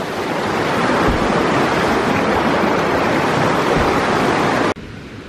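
Steady, loud rushing of river water flowing close by in the Alps on the Chamonix to Zermatt haute route, a dense continuous wash that cuts off abruptly near the end.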